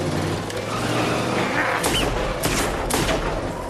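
Gunshots ring out in a Sin City car chase, several sharp cracks spaced out over a roaring engine and road noise, with tires squealing between shots.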